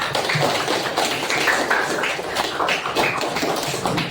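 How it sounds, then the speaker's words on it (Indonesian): A classroom group applauds after a student presentation in a religious studies lesson, with steady, dense clapping from many hands lasting throughout, close and fairly loud. "Oke, kasih tepuk tangan semuanya."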